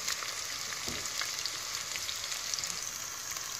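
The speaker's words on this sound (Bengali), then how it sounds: "পেঁয়াজ 2টো একটু ভেজে তারপর বাকি স্পাইসিগুলো দিয়ে দিব।" Two onions fry in a pan for a Bangladeshi dried-fish bhuna, giving a steady, close hiss of sizzling oil that continues throughout with faint crackles and no talking.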